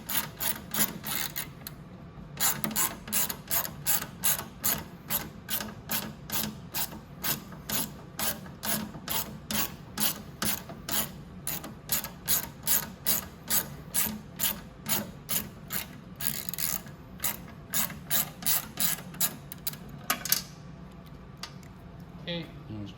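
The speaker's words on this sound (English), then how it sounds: "Pretty tight in there, so let's just screw it out." A ratchet wrench cranks out a tight part on a Venom 125cc mini jeep, fast even clicking bursts repeating steadily and close for about twenty seconds.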